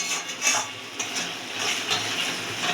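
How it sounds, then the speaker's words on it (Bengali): Spices and a little salt fry in a wok for tilapia curry over medium heat, giving a steady close crackle and sizzle with faint scraping and stirring, and no voices. "ভালো করে একটুখানি কষিয়ে নেব যতক্ষণ না কড়াইটা থেকে তেল ছাড়ছে।"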